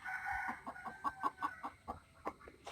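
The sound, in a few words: free-range chickens clucking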